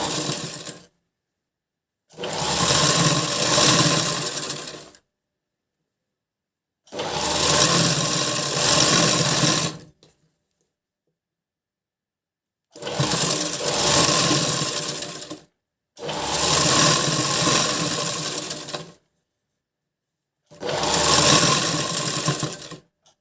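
An electric sewing machine stitches a blouse in five separate runs of about three seconds each, loud, close and whirring, with silent pauses between bursts and no voices.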